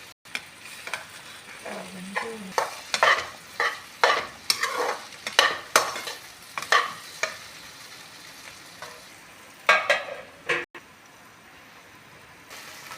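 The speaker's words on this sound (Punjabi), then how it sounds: "ਹਾਂਜੀ ਸਬਜ਼ੀ ਆਪਣੀ ਬਣ ਰਹੀ ਹੈ ਆਪਾਂ ਵਿੱਚ ਵਿੱਚ ਇੱਕ ਦੋ ਵਾਰੀ ਇਹਨੂੰ ਚੈੱਕ ਕਰ ਲਾਂਗੇ" Bitter gourd and okra mixed sabzi frying in a pan, with a soft sizzle under a series of repeated scraping stirs that come in irregular bursts, loud and close, then fade to quieter sizzling.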